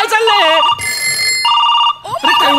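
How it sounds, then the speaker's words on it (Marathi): A telephone rings insistently on a comedy stage-show set, with steady electronic bell tones repeating in bursts between and beneath lively voices. "एवढे फोन का वाजतायत"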